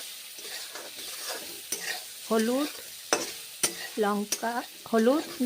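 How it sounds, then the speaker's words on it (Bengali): Pointed gourd (potol) slices fry with salt and turmeric powder in a pan, giving a steady sizzle broken by repeated scraping stirs, loud and close. "পটল ভাজা এখন ভেজে নিচ্ছি।"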